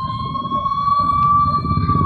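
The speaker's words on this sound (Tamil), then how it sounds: "ஓ, ஆம்புலன்ஸ் வருது." A loud, steady electronic ambulance siren wail holds a high pitch throughout, close and dominant with low traffic rumble underneath, on a road in Tamil Nadu.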